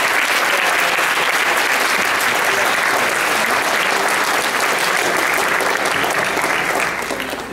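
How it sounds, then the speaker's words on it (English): A lecture audience gives a loud, sustained round of applause that stays full and even throughout and begins to taper only in the final moments. "can you please give a round of applause for Officer James Dillon Smith?"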